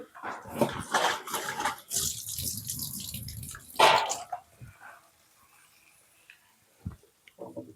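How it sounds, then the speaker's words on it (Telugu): Water is poured into a pot of eggs and taro for a tamarind stew, a splashy burst of pouring lasting about four seconds before fading to quiet with a few faint knocks. "కొంచెం వాటర్ వేస్తాను"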